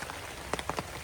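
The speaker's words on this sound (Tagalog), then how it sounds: "Ang ulan ayaw tumigil." Steady rain falls outdoors in a rural yard, a dense continuous hiss with a few louder drop spatters on a surface, no voices.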